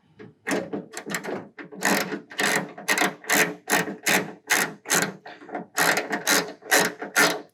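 A hand ratchet drives screws into a car door's window run channel, a rapid clicking ratchet repeated in about a dozen short bursts, close and crisp, with brief pauses between strokes.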